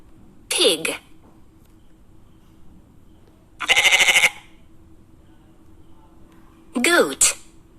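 Goat bleating close and loud, three separate wavering bleats spaced a few seconds apart, the middle one buzzy and sustained, with quiet between calls.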